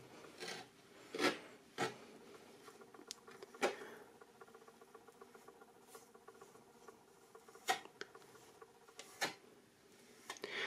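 A sand mixture for an acrylic pour border is stirred thoroughly, giving quiet gritty scraping and rubbing with scattered light taps, close and faint.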